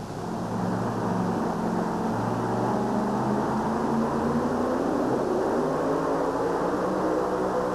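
A supercharged Chrysler Hemi in a 1923 T-Roadster drag racer roars steadily at full throttle in an arena, a dense continuous rumble with rising engine tones and no voices over it.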